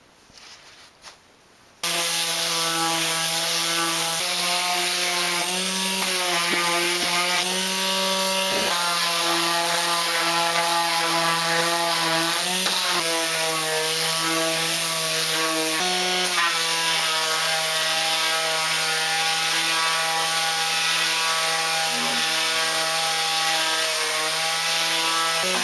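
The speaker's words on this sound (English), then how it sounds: "Now for a little sanding." A power sander works wood for a kitchen wrap rack, starting abruptly and then running as a loud, steady whine that shifts pitch slightly as pressure on the workpiece changes.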